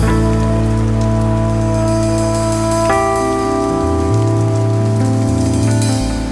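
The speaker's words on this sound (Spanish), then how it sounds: "San Sebastián hay que convivir con la lluvia constante." Steady rain falls in San Sebastián, a constant, even hiss throughout with a sustained tonal hum layered over it.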